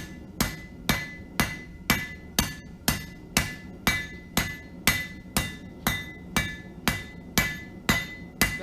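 Hammer striking hot steel on an anvil while forging a leaf, about sixteen even ringing blows in a regular, unhurried rhythm, loud and close with no talk.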